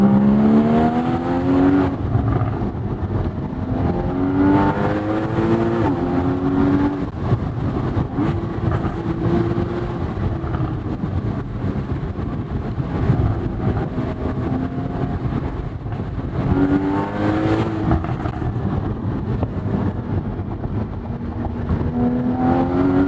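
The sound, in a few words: Porsche Boxster GTS engine accelerating while driving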